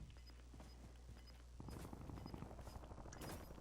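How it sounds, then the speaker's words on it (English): Distant gunfire in a Call of Duty-style shooter match, a rapid crackle of automatic bursts from far off, faint and continuous beneath the game's ambient hum with no talk. "Definitely hear gunfire. That's coming off somewhere in that way though, I think."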